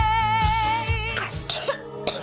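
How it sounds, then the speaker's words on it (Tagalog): A child coughs several times in quick succession, with harsh bursts over steady background music, near and fairly loud. "Ubo ng anak, nakababahala, baka plema."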